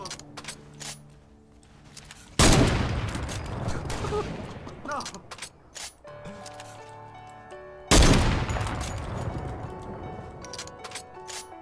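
Two loud bursts of rapid gunfire in Fortnite erupt close up, each a dense rattling volley that trails off, with quieter clicks and shots between them.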